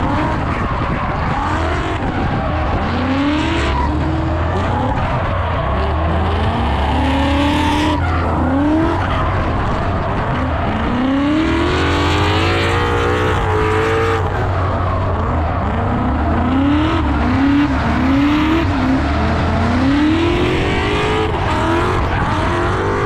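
A drift car runs a practice session on the DriftCon track, its engine roaring hard throughout while tires squeal and skid in repeated long bursts, loud and close, with no talking.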